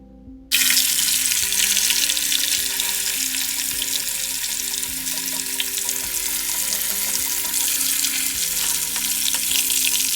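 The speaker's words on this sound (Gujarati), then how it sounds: "હવે આપણે પનીર ફ્રાય કરશું." Paneer frying in a pan for Punjabi kaju paneer, a loud, steady sizzle that starts abruptly and carries on without pause, with faint tonal hum underneath and no voices.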